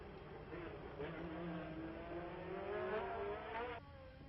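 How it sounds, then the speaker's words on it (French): Formula 1 race cars at the 1969 Monaco Grand Prix drone past with a rising, then falling engine whine, thin and distant, beneath a commentator's voice. "C'est Jackie X qui repasse Pierce Courage."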